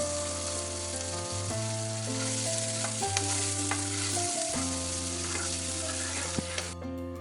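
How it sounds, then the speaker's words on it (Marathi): Chopped onion frying steadily in a pan while being stirred, a continuous close sizzle broken by scraping stir strokes and clinks, with a low tonal hum running underneath and no talking. "कांदा टाकून झाल्यानंतर आता आपण हे सर्व चांगल्या प्रकारे मिक्स करून घेऊ"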